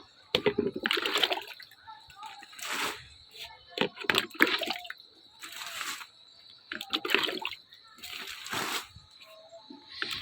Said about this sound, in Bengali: আমি এখন জল দিয়ে দিই একটু